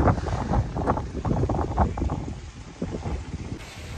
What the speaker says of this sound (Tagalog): sobrang lakas ng hangin